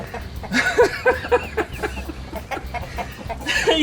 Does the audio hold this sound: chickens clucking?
yes